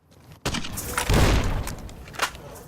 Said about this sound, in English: I throw grenades at it.